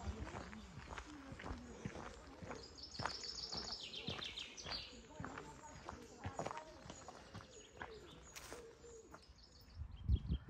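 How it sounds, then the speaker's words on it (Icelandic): Birds singing along the Camino Frances trail between Arzúa and O Pedrouzo, several bright chirps and trills in the background while footsteps crunch steadily on the path and a person talks nearby. "Og fuglasöngurinn."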